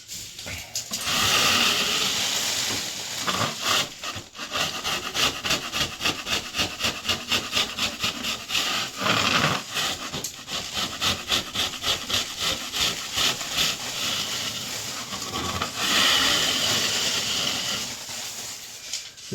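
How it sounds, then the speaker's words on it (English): Acoustic popcorn texture being scraped off a ceiling, a steady run of rough, rhythmic scraping strokes close by with no talking, with short pauses near the middle and a heavier burst toward the end. "So let's go ahead and get this whole place scraped."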